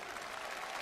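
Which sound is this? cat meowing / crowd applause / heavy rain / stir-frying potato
crowd applause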